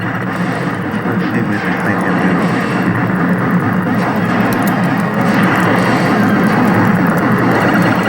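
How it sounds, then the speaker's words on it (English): A loud, steady roar of helicopter and aircraft noise from the Atari Firefox arcade video game, a dense continuous drone with no speech over it. "Oh, there's a helicopter."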